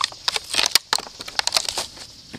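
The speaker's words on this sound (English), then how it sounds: "getting these missiles in, very snug fit" Foam missiles pushed snugly into the barrels of a Nerf ThunderBlast launcher, a close run of short plastic scrapes, clicks and rubbing crinkles with no talk.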